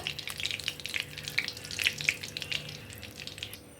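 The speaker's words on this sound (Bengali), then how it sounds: "ফোড়ন দিচ্ছি শুকনো লঙ্কা, পাঁচফোড়ন আর অল্প করে একটু কালো জিরা।" Dried chili, panch phoron and black cumin tempering in hot mustard-style oil in a pan after fish heads were fried, giving a steady close crackle and spitting sizzle with scattered sharp pops throughout.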